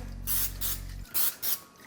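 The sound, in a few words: cooking spray being sprayed into cake pans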